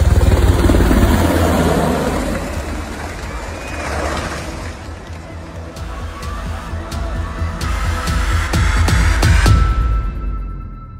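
A helicopter over a field, its loud rotor chop and turbine whine swelling and easing as it moves nearby, with faint voices underneath.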